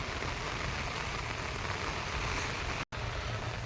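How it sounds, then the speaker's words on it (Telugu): Heavy rain pours steadily on open grazing land where goats are kept during a long wet spell, a dense, continuous hiss close by with one brief dropout near the end. "బేకార్ వాన పాడు. కానీ ఇప్పుడు సరి మంచిగా గట్టిగానే కొడుతుంది."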